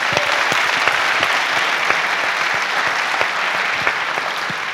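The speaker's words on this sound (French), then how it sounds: "Donc merci d'applaudir également Paul-Henri Mathieu." Dense, steady applause from an audience at a French tennis round-table event, many hands clapping together at an even level throughout.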